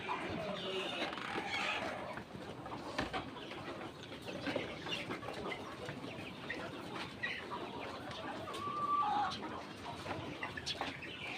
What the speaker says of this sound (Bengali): এগুলো তিন হাজার মুরগি আছে এখানে